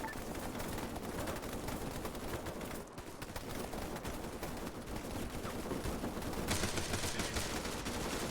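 Rapid automatic gunfire from the Arma 3 video game rattles on continuously at high intensity, with dense bursts blending into a steady roar and a brighter surge of fire near the end.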